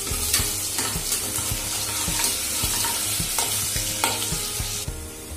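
Garlic and ginger sautéing in a pan as the base for a Kerala-style sausage curry: a steady, close sizzle broken by regular scraping stirs, with no voices.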